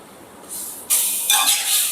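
Water hitting a hot pan of fish curry erupts in a sudden bright hiss, then swells again into a louder steaming sizzle that carries on to the end, with no one speaking.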